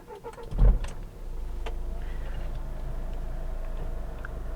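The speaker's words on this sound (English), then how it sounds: "let's start it up and let's listen to what it sounds like" A 2013 Nissan Qashqai 1.5 dCi diesel engine cranks briefly and catches, then settles into a steady, low rumbling idle close by.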